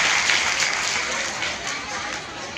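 A crowd at a Hindi comedy poetry gathering in Madhya Pradesh claps loudly and steadily, the dense applause filling the room without a break.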